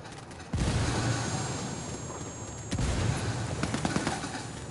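Two heavy frag grenade blasts in a military shooter game, each a sudden loud broadband boom with a long rumbling tail, the second arriving about two seconds after the first amid continuous battlefield din.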